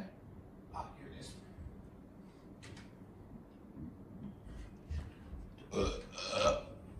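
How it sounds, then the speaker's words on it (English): A few quiet throaty burps sound in a small indoor space, the last one longer and louder, with faint knocks and shuffling between them. "I'll stop burping for now."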